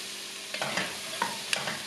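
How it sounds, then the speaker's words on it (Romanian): Chopped onion and pepper sizzle softly in a little oil in a pan, a close, quiet frying hiss broken by a few light stirring scrapes. "Mai punem foarte puțin ulei. Apoi punem ceapa și ardeiul."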